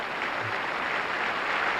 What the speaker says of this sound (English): fancy getting applause for that.